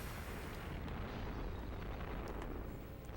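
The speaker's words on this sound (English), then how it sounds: "let's try to firebomb him" Fire bombs explode in Legend of Spyro, producing a dense, continuous roaring burst of game explosion noise that stays loud and broad throughout with no voices.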